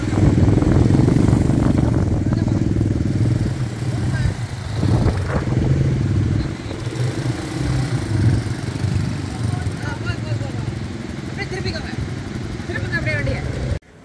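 A small ATV engine drones steadily and loudly for the whole stretch, rising and falling slightly as it rides on beach sand at Pismo Beach, with voices talking over it.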